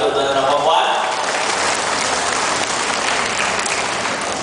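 An audience at a Malay talk on blessed wealth applauding in a steady, dense wash of clapping that carries on for several seconds after a voice fades out.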